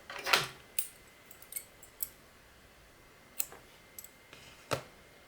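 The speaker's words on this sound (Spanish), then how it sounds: "ahora cortamos el hilo" Scissors snip through crochet yarn during finishing work on a crocheted plant-pot holder, one sharp close cut followed by a few lighter scattered clicks and snips against a quiet background.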